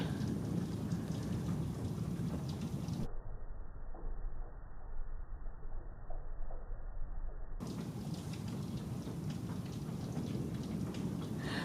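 Heavy, steady rain pours throughout a thunderstorm with continuous lightning during a tornado warning, thunder rumbling low beneath the downpour, constant and fairly close with no voices.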